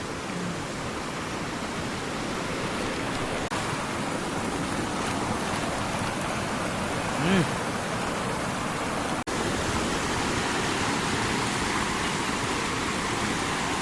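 Heavy monsoon rain pours steadily over a Konkan village, a dense, even broadband roar that holds constant throughout, with one brief faint tonal sound partway through and no talk.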